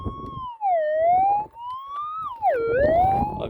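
A metal detector sounds loudly over a buried target while gold prospecting on a camping trip, giving a strong sustained tone that wavers and dips in pitch as the coil sweeps, with faint scraping and handling noise beneath.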